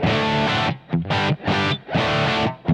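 Electric guitar played through a Boss Pocket GT on the MS 1959 high-gain preamp, heavily distorted chords struck in short bursts with brief gaps between them, loud and up close.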